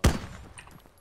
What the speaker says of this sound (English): God, these guns sound insane